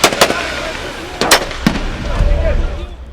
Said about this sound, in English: The sounds of tear gas, the sounds of the bullets.